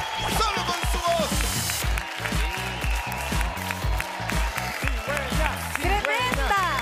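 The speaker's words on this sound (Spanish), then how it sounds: "El público de pie aplaudiendo a Cigüeña. La ovación para ella." A standing studio audience on a televised singing show claps steadily and cheers for a singer, a dense, continuous wall of applause with crowd noise throughout.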